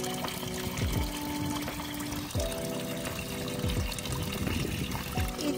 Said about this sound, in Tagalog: Ayan po ang mga tubig na galing po dito